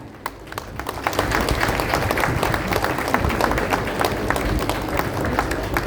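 Audience at a government groundbreaking ceremony claps loudly and continuously for several seconds, a dense, sustained applause filling the hall.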